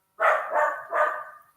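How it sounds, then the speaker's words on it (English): A dog barks three times in quick succession indoors, fairly close and clear, with no talking over it. "You can hear my dog barking now."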